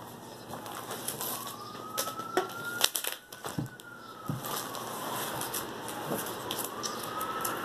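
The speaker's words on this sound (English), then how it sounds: "And there's a siren. Let that go by." A faint siren passes, wailing in long rising and falling sweeps in the distance, under scattered clicks and thumps from unboxing nearby.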